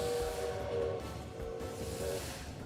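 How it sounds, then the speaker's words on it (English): Train whistle in Lobotomy Corporation, heard as two faint, steady tonal blasts laid over a hissing, airy background, distant and fairly quiet with no talk. "After that train whistle, we have 2 minutes to clear out as many bots as possible."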